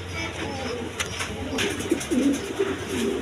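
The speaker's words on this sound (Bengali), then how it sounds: "এক পেয়ার গোল্লা কবুতর আছে" A pair of coloured Golla pigeons gives soft, low, repeated coos in short phrases, close by, over a steady hum of background noise.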